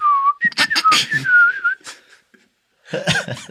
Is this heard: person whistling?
yes